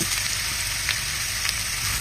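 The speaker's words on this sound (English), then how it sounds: "Carefully pour the hot oil over the garlic and chilies. You will hear that beautiful sizzle." Hot oil poured over chopped garlic and chilies, a steady close sizzle with a bright hiss that holds evenly throughout, a few small crackles on top and no voices.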